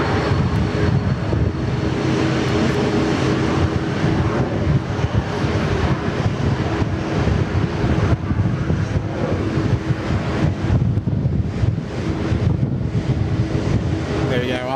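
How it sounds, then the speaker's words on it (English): Corporate jet taking off from runway 16 right at Sydney Airport into a headwind, a sustained, loud engine roar with wind buffeting, while a voice talks over it. "X-ray, runway 16 right, clear for takeoff."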